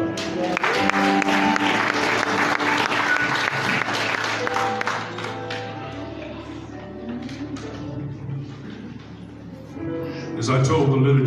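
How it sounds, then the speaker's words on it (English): A church congregation bursts into loud, sustained applause during a worship service, with voices and background music mixed in, the clapping gradually thinning out before swelling again. "give him a hand clap"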